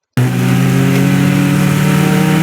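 A race car engine at VIR North, powering out of a tight corner: after a brief silence, a loud, close engine note starts abruptly and holds as a strong, even drone with pronounced harmonics.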